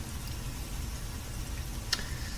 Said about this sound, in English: I'm going to disable the rain sound effects because they're very distracting